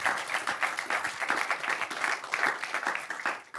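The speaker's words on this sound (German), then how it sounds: "Dafür kann man mal aber einen kräftigen Applaus geben" A live talk audience at the C/O Pop event in Cologne breaks into applause, a dense crackle of many hands that swells and holds, then tapers slightly toward the end.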